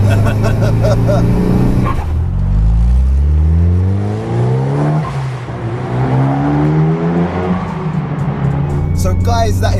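A 21-year-old Mitsubishi Evo 6 engine revs hard and accelerates, loud and close, with rising and falling harmonic sweeps as it pulls through gears; people talk over it in places.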